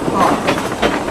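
Onboard a 2-foot narrow gauge train on the Maine Narrow Gauge Railroad, with a rumbling, clattering ride noise under a speaking voice during the brief moment.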